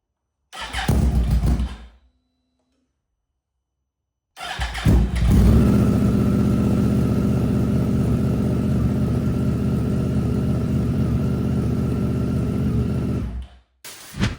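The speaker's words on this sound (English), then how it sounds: "I am going to test the bike, see if everything works." A Yamaha R1 sport motorcycle being test-started after repair: a brief cranking burst, a pause, then the engine catches and runs at a loud, steady close idle for about nine seconds before cutting off.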